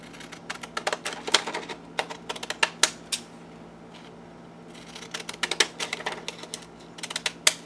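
Scissors cut through paper for a junk journal, giving crisp, quick snips in irregular bursts with a brief quiet pause midway, close up.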